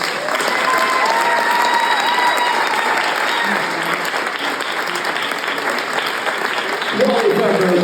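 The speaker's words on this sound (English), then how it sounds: "give them a round of applause" A comedy-night roast audience gives loud, sustained applause with crowd noise, a full wash of clapping that carries steadily until a voice begins speaking over it near the end.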